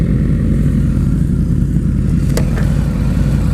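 A Harley-Davidson V-Rod and a Suzuki GSX-R 750 accelerating together on the road, a loud, continuous low engine roar that stays close and steady the whole time.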